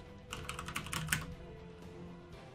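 Typing on an ROG Claymore keyboard with Cherry MX brown switches: a brisk cluster of close, tactile key clicks, then quieter background hum with no speech.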